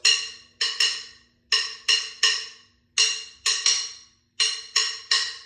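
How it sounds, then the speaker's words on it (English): Bright, dry cowbell hits repeating in quick groups of three, a steady syncopated Haitian kompa pattern played up close with no other instruments. "In Haitian compa, there's a cowbell part that goes."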